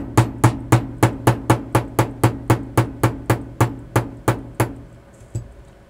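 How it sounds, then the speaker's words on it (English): Loud, close metallic hammer strikes on a stake while repivoting a carriage clock escapement, about eighteen evenly spaced taps in a steady rhythm, then one last lone hit after a pause. "I can get that down a little further this way by using a stake to tap it"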